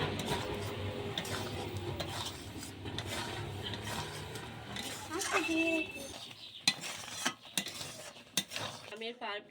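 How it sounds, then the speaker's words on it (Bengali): Thick mango pulp simmering and being stirred in a pan for spiced raw-mango aamsotto, with soft scraping, bubbling and clinks of a utensil against the pan; steady at first, then sparser knocks and taps near the end. "আমের পাল্পটা ভালো করে ফুটিয়ে নিয়েছি"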